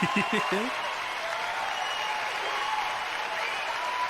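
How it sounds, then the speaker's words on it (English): Audience applause during a late-night interview show, a steady broad wash of clapping that runs through the whole stretch, with a brief voice at the very start. "Applause for doggos."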